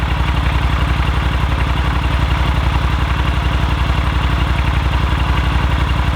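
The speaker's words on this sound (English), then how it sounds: "The battery definitely sounds weak, but it starts the bike up." A Yamaha Super Tenere motorcycle engine with a weak battery idles steadily, a close, even low-pitched throb with a rapid regular pulse and a light mechanical clatter, running continuously with no talk.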